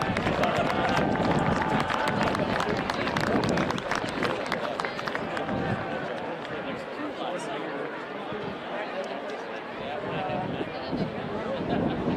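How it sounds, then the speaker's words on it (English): A stadium crowd at a college football game between Ferris State and GVSU gives a scattered round of applause, with clapping and crowd noise over a loudspeaker voice that carries on throughout. "Ladies and gentlemen, let's give a round of applause to our Ferris Foundation"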